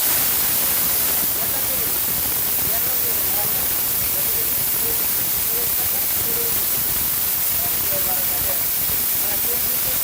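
A loud, steady whirring roar of a powerful commercial blender motor runs throughout, dense and hissy, with a slight shift in tone after the first second.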